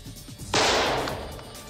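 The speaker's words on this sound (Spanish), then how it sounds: "Un par de minutos después, en medio de un silencio abrumador, se escuchó un solo disparo ahogado." A single sharp, muffled gunshot cracks out of near silence, then decays with a brief hissing tail.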